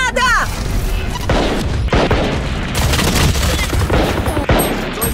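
Valorant match action: a heavy grenade blast and booms mixed with bursts of automatic gunfire, loud and close, with sharp crashes, and a player speaking excitedly over it.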